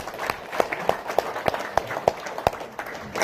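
A small audience claps at a business presentation for PT BES, faint and sparse, with a handful of sharp claps landing in a slow, fairly regular rhythm.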